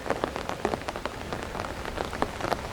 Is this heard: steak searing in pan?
no